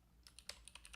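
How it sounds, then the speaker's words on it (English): Someone types on a computer keyboard in a quiet room, a string of faint, irregular key clicks that fall close together and come without speech. "Can I just keep typing until I find that one?"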